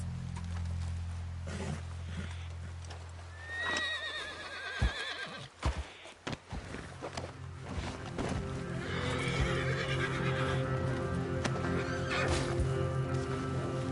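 A horse whinnies loudly, then hooves clop and thud, followed by steady galloping hoofbeats against a dense background in the video game Red Dead Redemption 2.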